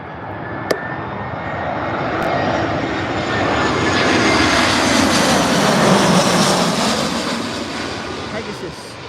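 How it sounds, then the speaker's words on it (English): Pegasus airliner passing low and loud on approach to land at Birmingham airport, a broad roaring engine rush that swells to a peak midway and slowly fades, with a couple of brief clicks over it. "Pegasus just coming in hot, low and loud, low and loud."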